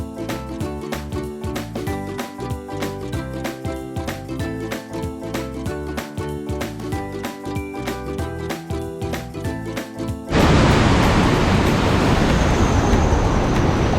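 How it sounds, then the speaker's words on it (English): Rushing river water and small waterfalls swollen after a rain storm in Hawaii, a loud broadband roar that bursts in sharply near the end after a stretch of other sound. "Here's the first set of little waterfalls."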